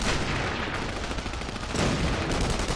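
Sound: sniper rifle gunfire in the video game The Saboteur

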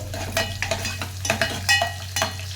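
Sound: garlic pieces frying in a pan

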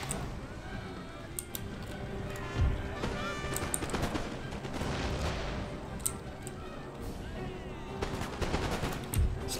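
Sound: musket volley firing in video game Empire: Total War

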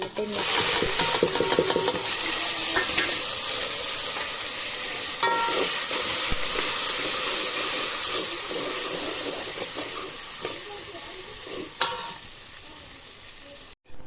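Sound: dal tempering sizzling and stirring

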